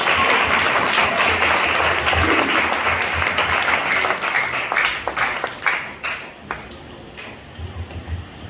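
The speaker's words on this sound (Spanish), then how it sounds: "dale palmas al Rey" A church congregation claps steadily and densely throughout, loud at first and thinning into scattered, uneven claps toward the end, with no talk over it.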